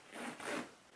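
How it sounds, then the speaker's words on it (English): A zipper is pulled up on a khaki denim boiler-suit-style playsuit, giving one quick, soft, close zipping rasp lasting about a second, with no voices. "let me zip it up"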